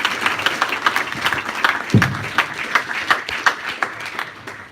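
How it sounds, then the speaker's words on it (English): An audience at a Docker tech meetup in London applauds a speaker, a lively mix of individual claps with distinct sharp hits rising and falling over a few seconds. "give a round of applause to Chris"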